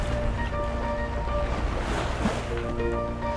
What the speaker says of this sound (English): But once out on open water, the wind and waves pick up.